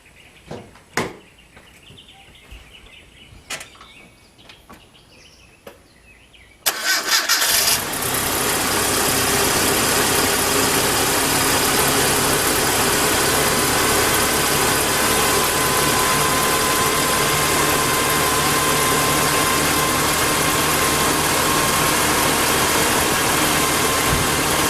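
A pickup truck engine, tune-up treated with Seafoam, Marvel Mystery Oil and Lucas, cranks and fires abruptly after a quiet stretch of faint clicks and birdsong, then settles into a steady, even idle that runs on without tapping.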